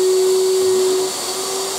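A Hyundai HYVI10030 wet and dry vacuum with three speed switches runs close and loud with a steady motor whine and airflow roar, then drops to a slightly lower, softer tone partway through as a switch is changed.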